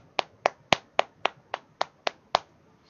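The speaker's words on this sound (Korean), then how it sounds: "박수." Hands clap in a steady, evenly spaced rhythm, nine sharp, crisp claps over about three seconds, close and clear with no other sound.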